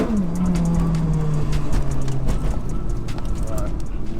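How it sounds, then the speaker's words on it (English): Stage 4 tuned Seat Leon Cupra spinning its tyres to warm them, a steady engine drone with a falling pitch over a continuous broad roar, loud and close throughout. "Let's light her up and go again. Warm these tyres up again."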